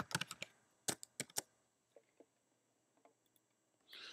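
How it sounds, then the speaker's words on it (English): Keys clicking on a computer keyboard as a password is entered on a Mac, a quick burst of close taps followed by a few scattered, quieter keystrokes. "type in your password"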